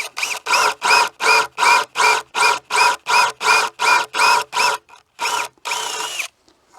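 A power drill boring a recess into a wall whirs in a rapid series of short, loud bursts, about a dozen evenly spaced, then two longer runs before it stops.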